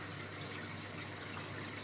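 Water pumped up through a biopellet reactor in an aquarium sump, a steady close-up hiss and gurgle of flowing water, soft and unbroken, with no voices.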